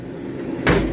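A single car door on a custom hot rod project in a workshop opens or shuts with one short, solid clunk after a moment of quiet room noise.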